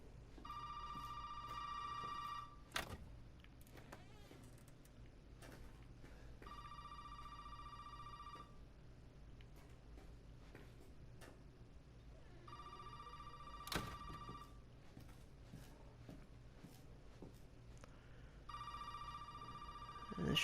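A phone rings repeatedly from another room in the Resident Evil 7 demo, four evenly spaced bright trilling rings over a dark, low background hum with occasional faint thuds.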